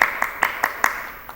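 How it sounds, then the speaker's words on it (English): A handful of claps for students at a high school choral and musical theatre awards event, five or six quick, light claps in an uneven rhythm, brief and close. "Big round of applause for these students"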